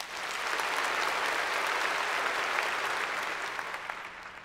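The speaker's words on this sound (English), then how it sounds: "let's give a round of applause and thank our community sponsors" Audience at a charity fundraising event applauding, an even, dense wash of clapping at moderate distance that holds steady and then fades slightly.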